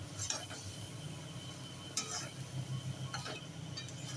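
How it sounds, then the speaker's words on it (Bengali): Yogurt-marinated chicken stirred in a kadai: a spoon scrapes and clinks against the pan a few times over a soft sizzle, close and fairly quiet. "কড়ার মধ্যে এখন নাড়ানাড়ি চলছে দই মাখা চিকেন।"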